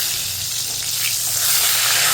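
A fish head fries in a pan, giving a close, steady bright sizzle that swells slightly toward the end, with no talking.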